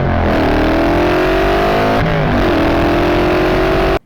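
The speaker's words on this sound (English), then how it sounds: "I've just put a Thruxton motor in my bobber." A Triumph Speed Twin engine, swapped into a Thruxton-style bobber motorcycle, revs loudly and close by, climbing in pitch in two rising pulls before cutting off abruptly, with no talk over it.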